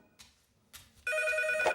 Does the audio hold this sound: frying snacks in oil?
no